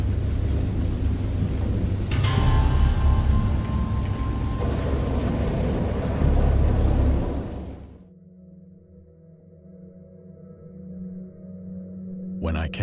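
A video game thunderstorm in the H.P. Lovecraft horror game Dagon, with steady heavy rain and rolling thunder that build to a loud crash before cutting to a low, dark rumbling drone.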